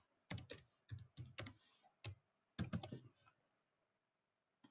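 Keystrokes on a computer keyboard entering a section name in Archicad, arriving as quiet, close bursts of quick clicks separated by short pauses.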